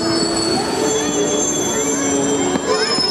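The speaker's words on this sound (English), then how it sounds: "It's a railroad." A train rolls past at Disneyland Paris at night, with high metallic wheel squeals and steady rumbling, continuous and fairly close.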